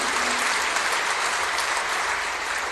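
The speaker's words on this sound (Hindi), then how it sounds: "ताली बजा रहे हो, हर्षनाद कर रहे हो" Dense, continuous applause from a large audience at a speech by India's Union Home Minister at an international Maheshwari convention, loud and sustained with no gaps, a wash of many hands with faint cheering.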